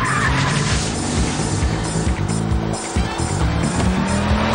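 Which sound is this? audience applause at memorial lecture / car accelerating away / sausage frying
car accelerating away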